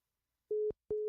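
Two short, steady phone busy-signal beeps sound right after a call drops. They are evenly spaced, clear and alone, with no voices.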